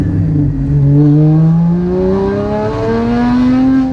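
Tuned Porsche GT4 revving hard on a dyno, its loud engine note climbing steadily in pitch through a long pull, briefly dipping and rising again, close and alone with no talk.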